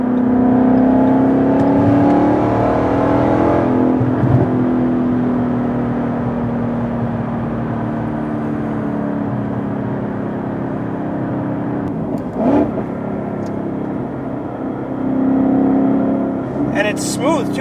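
A 2017 Ford Mustang with a Roush Stage 3 kit accelerates, its engine a loud, steady drone rising in pitch from inside the cabin, with a voice talking over it.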